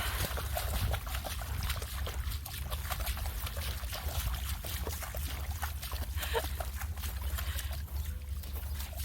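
A dog plays in a puddle on a walk near a campsite, giving irregular wet splashes and slaps at close range, with a steady low rumble underneath throughout.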